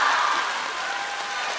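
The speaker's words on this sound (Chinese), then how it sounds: "依然还有掌声" Brief audience applause at a Deyunshe crosstalk show, a soft, steady patter of clapping from a crowd heard at some distance.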